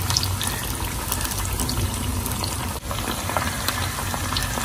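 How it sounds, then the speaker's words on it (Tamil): Chettinad-style anchovies fry in hot oil in a pan, a dense, steady sizzle and crackle that stays close and loud throughout, with a brief dip midway and no talking. "கொஞ்சம் பொறிட்டுங்க. அப்புறமா திருப்போம்."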